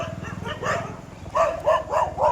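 A dog barks in a run of sharp, close barks, a cluster early then four rhythmic yaps toward the end, loud and clear over a low background hum.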